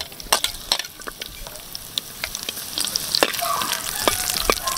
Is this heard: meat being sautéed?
yes